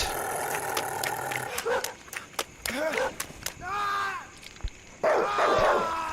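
A dog barks and whimpers in short bursts amid noisy outdoor commotion, with people's voices overlapping the yips and yelps.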